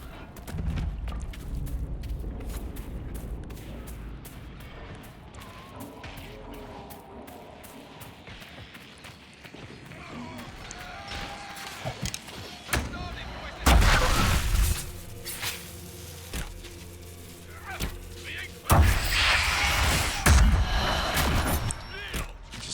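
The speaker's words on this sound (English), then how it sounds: "Injure a bunch of them with the explosion." Explosions and combat in the video game Dragon Age: Inquisition, with sharp booming bursts and crashes rising out of a busy battle background partway through, loud and close.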